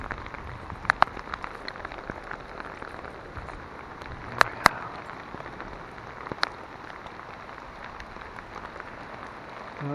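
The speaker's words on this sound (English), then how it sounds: "It's really raining." Heavy rain pours onto a VW Jetta car with a leaking sunroof. It makes a constant hissing wash with scattered sharper drop hits, heard alone at moderate level.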